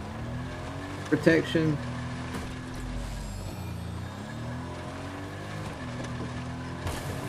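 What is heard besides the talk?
vehicle driving in Fortnite video game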